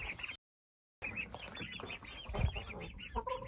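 Young chicks and ducklings on a farm, the ducklings a few weeks younger than the chicks: a busy chorus of high peeping and chirping, cut by a short silent gap, then continuing steadily.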